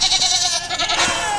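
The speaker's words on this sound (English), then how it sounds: "we got some new baby goats over here" Newborn baby goats bleat on a farm in a continuous, high, wavering cry that sounds close and loud throughout, with no talking over it.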